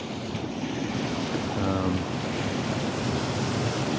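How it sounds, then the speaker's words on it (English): Steady ocean swells washing onto a beach beside breakwaters at Khlong Wan Pier, with a continuous surf rush and wind buffeting the microphone. "these swells are a little more constant than the ones over on Almanau"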